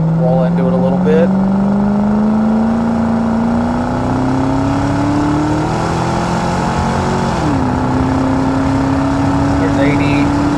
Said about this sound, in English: we'll do a little heavier acceleration now since we didn't get to before